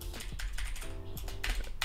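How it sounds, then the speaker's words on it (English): Rapid typing on a computer keyboard, close and fairly loud, with irregular bursts of clacking keystrokes and brief pauses, no voices. "sorry for my typing"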